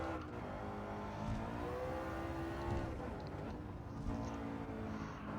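McLaren MP4-12C race car in Gran Turismo 7 on the Tokyo Expressway, its engine droning steadily at high revs with shifting pitch, close and continuous throughout.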